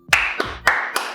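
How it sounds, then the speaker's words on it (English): A small group claps for a dad celebrating a win, four short close bursts of hand claps with brief pauses between them, no talking. "Everybody, clap for Dad."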